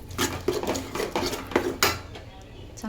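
Mutton with ground masala paste being sautéed in a pan, heard as a run of sharp, close metallic scrapes and clinks of a spoon against the pan in an uneven rhythm, fading to a quieter tail.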